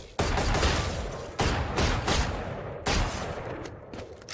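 A rifle fires in Valorant in a few sharp, booming bursts that ring out and decay between shots, loud and close, with no voices.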